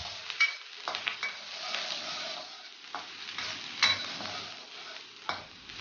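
Ginger, garlic and sand ginger stir-fry in hot oil in a wok, giving a steady crackling sizzle with intermittent scraping stirs and clinks, moderately close.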